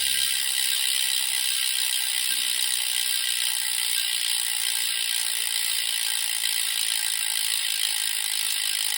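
A Ribble Endurance SL road bike with a Shimano Ultegra groupset freewheels, its rear hub ratchet buzzing in a steady, rapid clicking whir recorded very close up for nine seconds, with no talking.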